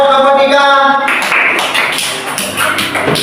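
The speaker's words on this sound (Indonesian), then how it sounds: "tepuk tangan dulu buat kelompok 3" A classroom of students claps for a presenting group, a burst of many overlapping hand claps rising after a brief sustained tone at the start and continuing at moderate loudness to the end.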